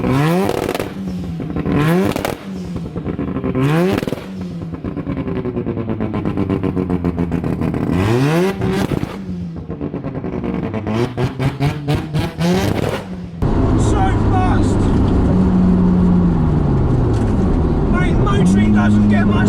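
A 500 WHP Mazda RX7 FD 3S with a GT2 replica wing is driven hard in the desert, its rotary engine revving up and down through repeated loud pulls and gear changes, with sharp bursts, then a sustained roaring drone.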